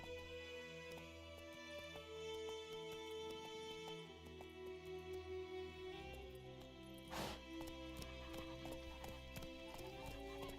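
Hooves clip-clop in a steady galloping rhythm as the horse Roach runs in The Witcher 3: Wild Hunt, close and clear over a layered game soundtrack, with a brief neigh among the steps.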